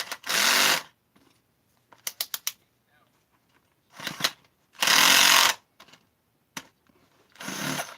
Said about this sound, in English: So now I'm going to take out these two case bolts.